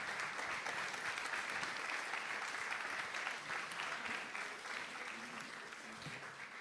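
Sustained audience applause greeting Quentin Brière, mayor of Saint-Dizier, at an evening event; steady dense clapping that continues throughout and eases slightly toward the end.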